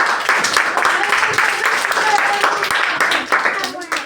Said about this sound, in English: Claps for the children.